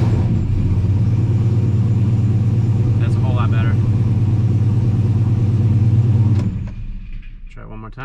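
A 900-horsepower turbocharged Chevrolet Silverado engine idles loudly and steadily with a deep, even rumble for about six seconds. A brief voice cuts in partway through, and then the engine cuts off, leaving near silence.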